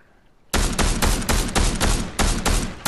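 Rapid, sustained gunfire from the video game Fortnite, loud and dense, bursting in suddenly after a quiet moment and pounding on in a steady automatic rhythm without talk.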